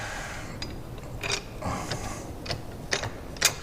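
A wrench puts tension on a T-nut of a Bridgeport milling machine, making a few spaced metallic clicks and clinks over a faint steady shop hum, close and fairly quiet.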